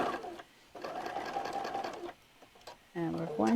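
A sewing machine stitches through fabric and a fabric tag on half square triangle quilt units, running in steady mechanical bursts that stop and restart, close and clear, with a brief pause for the needle.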